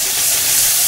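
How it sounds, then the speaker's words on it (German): Turkey strips searing in very hot oil in a pan, a loud, steady hiss and sizzle heard close up with no talking over it. "Immer in die heiße Pfanne das Öl schön heiß werden lassen und dann das Fleisch anbraten."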